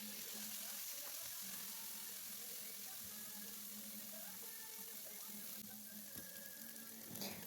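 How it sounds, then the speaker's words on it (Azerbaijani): Lamb tail fat, salted, sizzles in a hot pan with a steady, moderately quiet hiss and fine crackle, continuous throughout with no talking. "Tavanı qızdırdım, quyruq əlavə elədim. İndi isə üzərindən duz əlavə edirəm və quyruq öz yağını salacaq."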